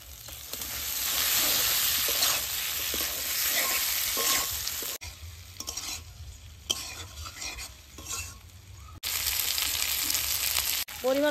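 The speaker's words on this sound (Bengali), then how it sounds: "এখন ভেজে রাখা ফুলকপি আর ডিম দিয়ে দেবো।" Fried cauliflower and eggs hit a pan of spices, salt and turmeric with loud sizzling and frying, stirring scrapes throughout, the hiss dropping and rising again in bursts.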